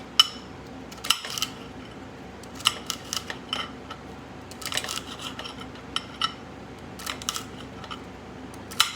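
A knife cuts vegetables such as celery for a salad on a board in a quiet kitchen, producing irregular sharp clicks and taps in short bursts, close and fairly soft.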